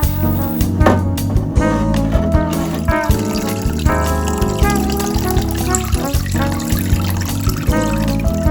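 A 3D printed water-based resin rhino figure gets rinsed in a water bath, with continuous splashing and trickling mixed under loud, steady music.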